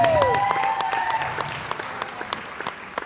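A comedy club audience at a ladies night show claps in a burst that starts full and loud, then thins out into scattered individual claps as it fades.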